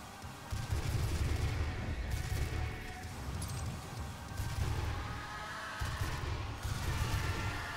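Gunfire in the Doom video game: repeated bursts of heavy, booming shots in rapid clusters with short pauses between them, fairly faint and mixed with low rumbling game noise.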